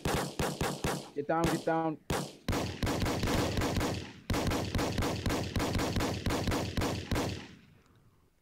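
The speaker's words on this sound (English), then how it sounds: "Shots fired." Rapid bursts of automatic gunfire in a Roblox fire-department roleplay game during an active-shooter scene, loud sharp shots in fast rhythmic volleys with a brief shouted voice between bursts, tapering off at the end.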